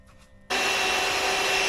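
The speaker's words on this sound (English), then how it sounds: "Got the vacuum going." A pool vacuum at an above-ground pool switches on abruptly after a quiet moment, then runs as a loud, steady motor whine and rush of suction.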